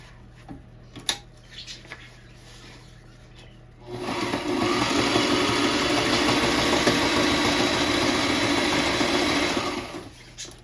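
A sewing machine stitches a line on a small drawstring water bottle bag, starting after a few seconds of quiet handling clicks and then running as a steady, loud, continuous whir for about seven seconds before stopping.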